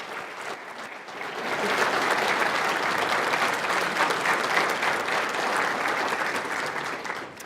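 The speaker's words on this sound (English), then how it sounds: "I think we should give Dr. Peter Ballerstedt a big round of applause." Sustained applause from a large audience after a keynote speech at an agricultural conference, steady dense clapping that swells after the first second and holds loudly throughout.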